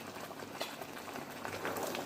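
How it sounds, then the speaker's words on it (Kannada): Thick green masala bubbling in a pan over a medium flame for a pomfret fish curry, a soft, steady close patter of small bursting bubbles with no voices. "ನೋಡಿ ಇವಾಗ ಮಸಾಲೆ ಚೆನ್ನಾಗಿ ಕುದ್ದಿದೆ"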